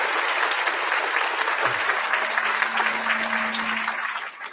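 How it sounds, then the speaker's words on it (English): Loud, dense applause from a large crowd, sustained throughout and tapering off at the end. "Can we give those folks a round of applause?"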